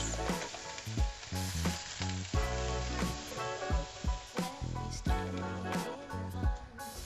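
Double cream hits sweated-down onions in a hot pan, giving a loud, steady sizzle with repeated bursts of spitting and stirring across several seconds.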